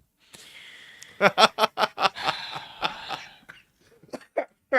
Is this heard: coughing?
yes